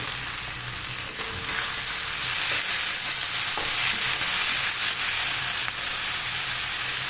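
Onions and tomatoes fry in a pan for a dhaba-style paneer masala, a loud, close, continuous sizzle with scraping stirs and occasional knocks, no talking.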